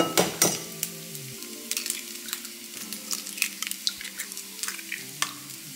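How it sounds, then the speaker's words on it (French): Five eggs cracked into a hot frying pan, a few sharp taps and cracks, then a continuous sizzle with scattered clicks of utensils against the pan. "Là on casse 5 œufs"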